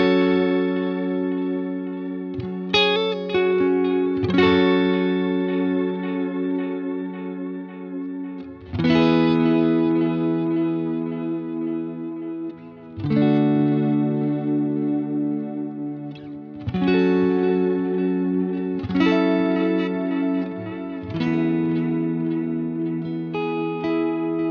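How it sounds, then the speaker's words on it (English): Guitar chords through a Boss Space Echo RE-202 tape echo with wow and flutter turned up full, giving a wavering, chorus-like shimmer and trailing echoes under sustained strummed chords, loud and close. "we've got the wow and flutter, which adds that kind of modulation type sound, almost chorusy sound"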